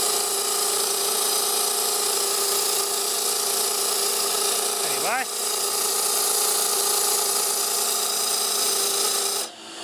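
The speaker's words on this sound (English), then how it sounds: "That's compressor running at its optimal speed." Sanden automotive AC compressor running on a variable frequency drive, giving a steady close mechanical hum and whine that holds constant throughout, with a brief sweeping tone near the middle.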